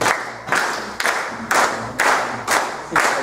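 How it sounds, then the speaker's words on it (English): A group claps hands together in unison at a closing circle-sharing gathering, sharp synchronized claps landing about every half second in a steady beat, close and loud with no talking. "You guys can clap. I agree with the clapping."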